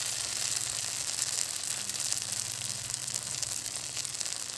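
Fish pieces fry in sesame oil, cooked the primitive way, giving a steady, loud, close sizzle that crackles continuously from start to finish with no talking.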